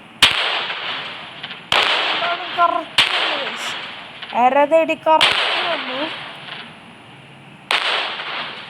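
Sharp gunshots fired one at a time, several loud cracks spaced a second or more apart with short decaying tails, while people talk between the shots.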